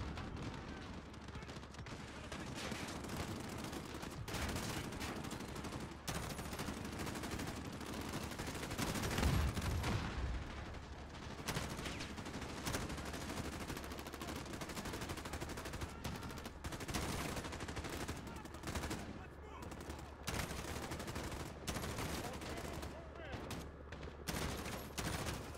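Sustained gunfire from the Modern Warfare campaign, dense bursts and rapid automatic shots rolling continuously, with explosions and battle noise filling the background and a voice talking over it.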